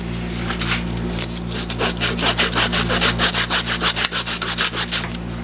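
Rhythmic rasping strokes of sandpaper on synthetic tech cork during a 1925 Holton alto saxophone overhaul, starting loosely then settling into a quick, even back-and-forth pace, close and fairly loud.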